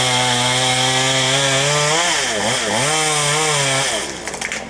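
A chainsaw roars steadily close by while a tree service cuts a branch from a tree, the engine dipping briefly in pitch midway before recovering, then easing off at the end.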